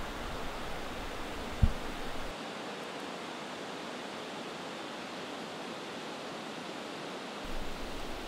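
Glacial meltwater pours out of the rocks at Barnafoss waterfall in Iceland, making a steady broadband roar that runs unbroken, with a single brief thump early on.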